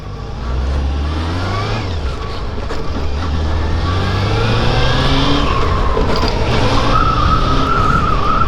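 A motorcycle riding through town on a street, engine revving up and down in rising and falling sweeps, steady and fairly loud with wind noise, no talk.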